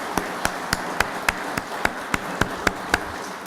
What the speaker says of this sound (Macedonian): би сакала заедно со мене да им дадеме еден аплауз